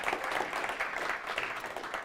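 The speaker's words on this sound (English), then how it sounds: "Applause." Moderate applause from an audience at an evening AWS user group meetup, a short burst of steady clapping without speech.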